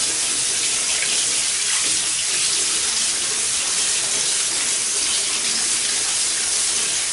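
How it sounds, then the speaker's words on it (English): Salted cabbage leaves for kimchi are washed under a running tap, a loud, steady rush of water that stays close and unbroken throughout with no voices. "First I wash off the immediate salt from the leaf itself."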